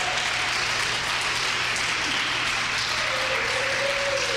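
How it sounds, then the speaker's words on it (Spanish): Congregation applauding in a church service: steady, dense clapping filling the whole span at even loudness, with a faint sustained tone rising near the end. "Dale un aplauso fuerte"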